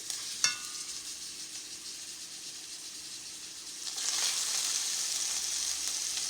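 Pork chops land in a pan of hot olive oil with a sharp initial hiss, the frying settling into a soft steady sizzle that swells louder after a few seconds.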